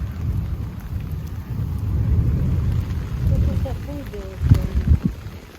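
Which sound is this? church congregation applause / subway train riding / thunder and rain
thunder and rain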